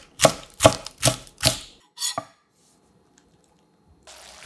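A knife slices through half a green onion on a cutting board, four crisp, evenly spaced chops followed by a fifth softer cut, close up, then near silence.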